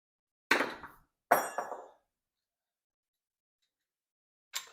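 Tool clicks as a 5/16 Allen wrench works a nylon nut loose on a functional trainer's weight stack, two sharp metallic clacks close together, a pause, then one more, near and otherwise silent.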